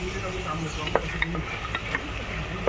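Chopped onion sizzles steadily in hot oil while being sautéed with coarsely crushed ginger and garlic for a wet cashew bhaji, with occasional spoon scrapes and clicks against the pan over the close, continuous frying hiss.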